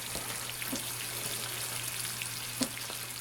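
Eggs fry in butter in a Cuisinart Multiclad Pro stainless steel pan, a soft, steady sizzle with faint crackles and pops under a low steady hum, quiet and close.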